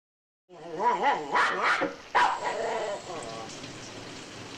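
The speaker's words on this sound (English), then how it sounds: "All of a sudden, a dog starts to bark off camera." A dog barks off camera in a film scene, several sharp barks close together, with steady rain-like noise behind.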